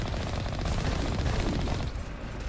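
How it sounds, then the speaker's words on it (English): Rapid automatic fire from the Mako vehicle's machine gun in the Mass Effect video game, a dense continuous rattle of shots filling the whole moment, loud and close. "I also really like the little splash effect from the machine gun"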